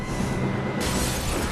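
Glass shattering as a man is hurled through a school's glass in a spy-kids-style action scene, a sudden bright crashing burst that breaks in midway over a dense, noisy background.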